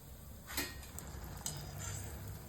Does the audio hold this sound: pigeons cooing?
no